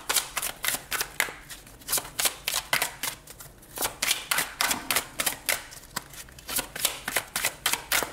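Tarot cards riffled and shuffled by hand in a repeated run of crisp, close flutters and snaps with brief pauses, with no one speaking.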